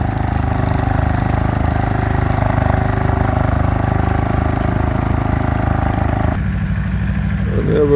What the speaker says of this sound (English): Back with the old Ransomes MG6